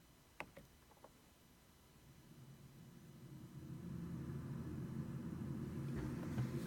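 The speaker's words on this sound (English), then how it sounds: "So that sound is actually the air conditioning." Steady low air-conditioning hum fills a quiet recording room, rising slightly in level partway through, with a couple of faint clicks early on and no talking.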